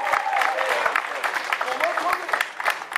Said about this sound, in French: On l'acclame puissamment.